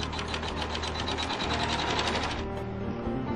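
A sewing machine stitches a tack-down stitch on a quilt block, a steady fast needle rhythm running close and continuous before the motor winds down near the end.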